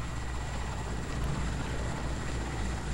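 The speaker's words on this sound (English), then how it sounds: "The helicopter's after us!" Steady low rotor drone of a helicopter in the PS2 game Quantum of Solace, constant and fairly loud throughout with a broad engine hum.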